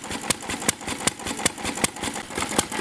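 A McCormick Deering M tractor engine runs after its first start, thumping in an even, steady beat of sharp exhaust pops at close range.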